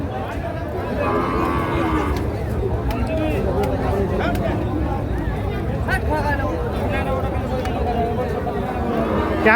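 Sahiwal bulls and other cattle at a busy livestock market give drawn-out moos that rise over a steady crowd hubbub, with people talking nearby throughout.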